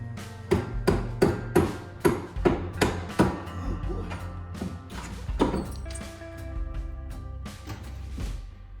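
A hammer strikes a nail being pulled out during a kitchen remodel in a quick run of sharp, ringing blows, about a dozen close hits, then slower scattered knocks and clatter.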